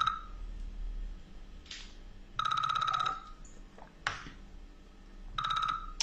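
A telephone rings during a live TV broadcast, giving three loud electronic double-tone bursts separated by quieter gaps, close and alone.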